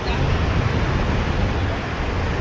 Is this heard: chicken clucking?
no